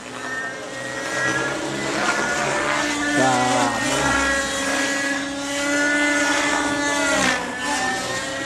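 Hirobo model helicopter engine running outdoors, a loud steady high-pitched buzzing whine with a brief pitch dip midway, continuous and close throughout.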